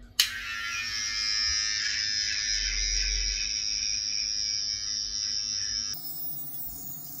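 An electric beard trimmer buzzes steadily as it shaves neck hair against the grain, close and continuous, then is switched off near the end.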